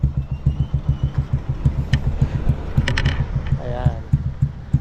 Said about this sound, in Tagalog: Pinapainit ko na lang yung kanyang makina